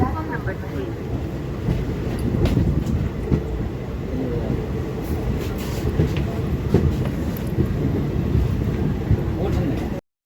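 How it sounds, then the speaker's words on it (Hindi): Special train from New Delhi toward Saharsa arriving at Mansi Junction platform 3, a steady close rumble of rolling wheels and carriage noise with faint clanks, fairly loud and continuous throughout. "अभी ट्रेन का अराइवल हो रहा है मानसी जंक्शन पे"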